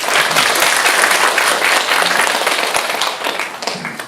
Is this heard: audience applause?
yes